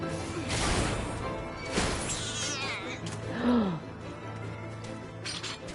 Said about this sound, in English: I was not expecting it to make that cat sound.